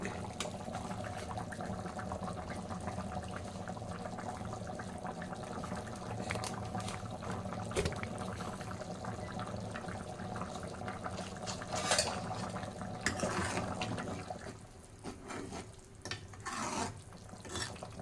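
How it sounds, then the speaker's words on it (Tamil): A pot of Tamil kuzhambu curry bubbling steadily at a rolling boil, with a dense, continuous simmering hiss and occasional clinks of utensils, close by. "குழம்பு நல்லா கொதிக்குது"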